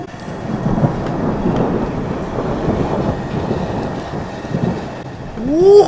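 A Los Angeles thunderstorm with thunder rolling after lightning, a loud continuous rumble that swells toward the end, with a brief high tonal sound right at the close.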